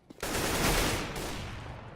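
In a Counter-Strike match, a single sharp gunshot cracks out close and loud, then decays into a sustained, echoing rumble that fades over the next two seconds.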